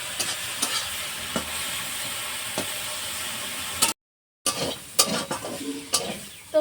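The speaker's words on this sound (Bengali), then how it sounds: "তো পটল শাকটা আমার ভাজা হয়ে গেছে" Pointed gourd greens fry in a pan with a little salt, giving a steady close sizzle broken by sharp scraping stirs and a brief gap.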